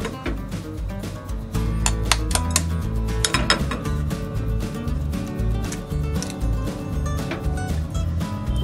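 Spoon or whisk clinks and scrapes steadily against a bowl while chicken marinade with egg, Ajinomoto and salt is mixed by hand, a close, busy run of small metallic knocks.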